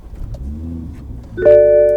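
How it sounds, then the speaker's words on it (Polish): A BMW car engine cranks briefly with a low churning, then catches and settles into a loud, steady idle. "Odpalmy sobie auto."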